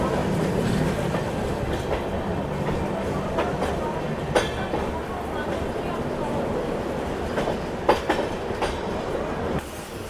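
The SMVT Bengaluru–Bhagalpur train rolls along the rails, a steady rumbling clatter with occasional sharp wheel clicks, while a person talks over it.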